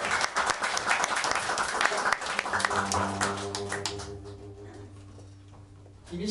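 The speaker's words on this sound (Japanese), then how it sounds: "まずは満さんに大きな拍手を。" Audience applause at a live outdoor concert at a green farm, dense clapping at first that thins and fades while a low sustained tone hums underneath.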